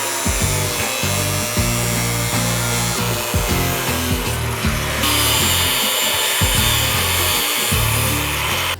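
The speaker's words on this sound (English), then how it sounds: "we're gonna use a reciprocating air saw as well as a smaller air cutoff wheel" Reciprocating air saw and air cutoff wheel cutting through a plastic truck bumper on a Toyota Tundra, a loud continuous buzzing rasp with rapid rhythmic strokes and no talk over it.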